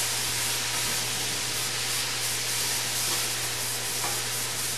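Vegetables for Cajun chicken linguini sizzle steadily in a hot pan, a dense, even hiss with occasional stirring scrapes and a low constant hum behind it.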